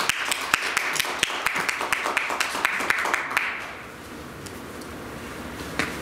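Audience applause at the second Film People's Day gathering of the Korean Film Association's Jeonbuk branch: a few seconds of sharp, scattered hand claps that thin out and fade into quiet room tone.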